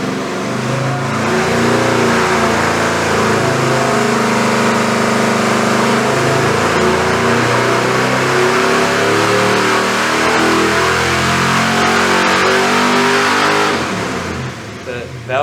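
A 400 cubic-inch Gen1 small-block Chevy, built for 93 pump gas and over 500 horsepower, roars on an engine dyno, a loud, close, sustained rev held for about thirteen seconds before easing off.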